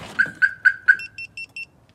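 A Viper alarm system on an Acura RSX sounds up close: four loud, evenly spaced chirps, followed by four shorter, higher electronic beeps in quick succession, with no voices.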